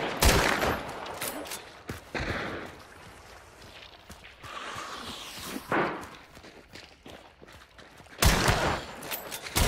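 Gunfire from the Hunt: Showdown video game, several loud sharp shots in bursts at the start, midway and near the end, with softer game movement and footstep sounds between them.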